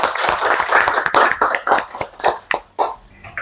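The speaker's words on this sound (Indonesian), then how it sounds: "Kita beri tepuk tangan untuk kelompok kedua ya." Applause for the second group in a university class session, a small scattered round of hand clapping that comes in irregular bursts and tapers off, no talking over it.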